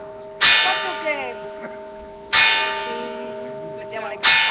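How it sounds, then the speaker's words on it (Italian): Church bells ring in Udine, with three loud clanging strikes about two seconds apart. Each strike leaves a long, shimmering ring that slowly fades before the next, heard alone with no talk over it. "aspettiamo le campane"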